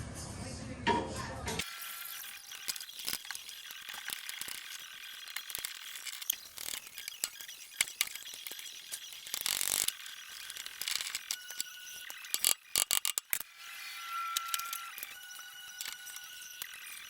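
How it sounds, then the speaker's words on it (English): A ratchet clicks repeatedly while undoing brake caliper bolts on a 1965 Triumph Spitfire, giving close, irregular bursts of metallic clicking with short pauses and occasional clanks. "I'm going to have to undo the caliper to get the pad out."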